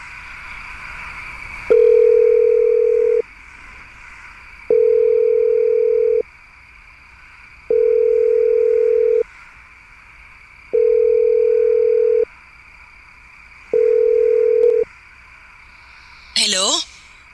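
A telephone ringback tone sounds while a call is placed: five long, even beeps separated by regular pauses, loud and clear over a faint hum, ending in a brief clatter as the line is picked up.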